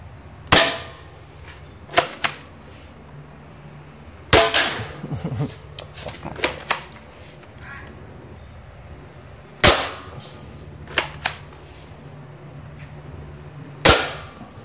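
Sharp shots from a dCobra M96 air gun crack loudly, each followed by a metallic impact, spaced several seconds apart, with faint rustling and a low hum between them.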